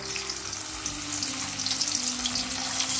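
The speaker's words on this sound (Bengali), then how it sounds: "কড়ায় তেল বসিয়ে দিয়েছি, মাছ ভেজে নেব।" Hilsa fish fries in hot oil in a pan, giving a continuous dense crackling sizzle up close, steady and loud for the whole stretch with a low hum underneath.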